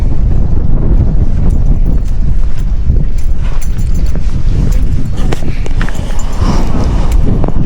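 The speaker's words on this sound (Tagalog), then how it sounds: "Sarap ng hangin. Buti na lang mahangin" Strong wind buffeting the microphone on a mountain top, a loud, continuous low roar with gusty swells and rumble, constant from start to finish.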